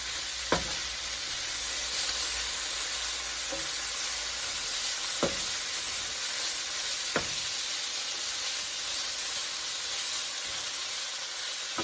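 Onion and steak meat for a Philly cheesesteak fry in a pan with a steady, close sizzle, broken by a few sharp scrapes and clicks as the mixture is stirred.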